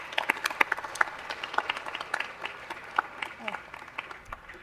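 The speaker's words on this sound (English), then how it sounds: "round of applause" Scattered applause rises from the audience at a Los Angeles city council meeting, uneven claps of moderate loudness with a few sharp individual hand strikes standing out, and voices murmur faintly beneath them.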